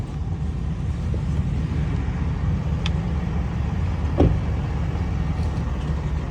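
A car engine runs loudly and steadily while the vehicle is driving, with a constant low rumble throughout and one brief knock near the end. No voices are heard.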